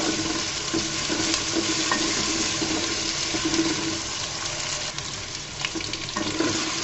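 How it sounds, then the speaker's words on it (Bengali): Cut potatoes frying in hot oil for a Bengali chichinga (snake gourd) curry, a steady close sizzle and bubbling hiss that runs unbroken throughout with no talk. "কেটে রাখা আলুগুলোকেও আমি এই তেলের মধ্যে একটু ভাজা করে নিব"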